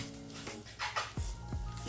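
A puppy gives a few faint, short yips and whimpers, spaced apart in a quiet indoor room.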